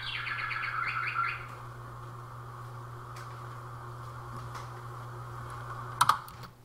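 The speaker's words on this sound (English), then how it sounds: "Right there, that is the bird clock." A bird clock in a video game gives a bright burst of chirps and tweets at the start, then a faint background hum, with a short sharp chirp near the end.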